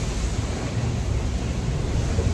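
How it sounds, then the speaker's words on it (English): Heavy ocean waves and strong wind at 40–45 knots around a racing yacht sailing downwind in the Vendée Globe, a loud, continuous roaring wash of surf and wind buffeting with no voices. "Massive waves."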